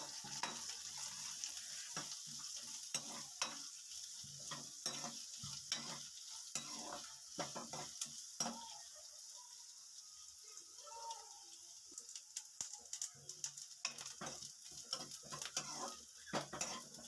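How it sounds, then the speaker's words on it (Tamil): Sliced onions and curry leaves sautéing in hot oil for peanut sundal, a continuous close sizzle broken by frequent scraping and clinking strokes of a ladle against the pan. "இப்போ கட் பண்ணி வச்சுக்கிற வெங்காயத்தை சேர்த்துக்கலாம். கூடவே கறிவேப்பிலையை சேர்த்துட்டு நல்லா வதக்கிக்கலாம்."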